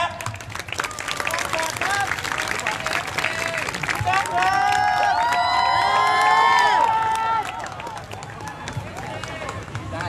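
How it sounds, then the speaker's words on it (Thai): A crowd at a student anti-government flash-mob rally at Chiang Mai University claps and cheers, with loud shouts and whoops swelling midway, while voices talk throughout. "ถ้าพร้อมแล้วขอเสียงปรบมือนะครับ"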